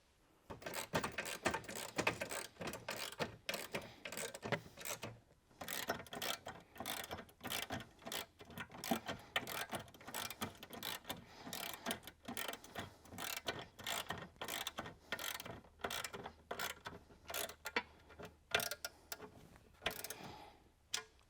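Bolts are tightened during a roll bar install on a 2024 Jeep JLU, producing steady, close ratcheting clicks in rapid, repeated runs with brief pauses as the wrench is worked.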